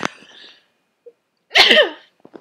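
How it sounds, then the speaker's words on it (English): A single sharp, loud sneeze bursts out after a faint breathy intake, with quiet moments of near silence before and after. "Oh, I'm going to sneeze."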